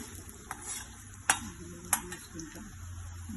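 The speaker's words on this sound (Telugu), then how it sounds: "ఇలా అంతా మిక్స్ చేసుకోవాలండి" A spoon stirs a sizzling tempering of chana dal, peanuts, urad dal, mustard seeds and cumin in a pan, with steady frying hiss and a few sharp scrapes and clinks against the metal.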